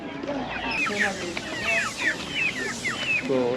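Hens clucking among other fowl at a busy rural five-day market in Goesan, several short overlapping calls close by, with market chatter in the background.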